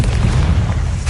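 Confringo fire spell bursts in Hogwarts Legacy, a loud, booming low blast with a rumbling, crackling tail lasting about a second.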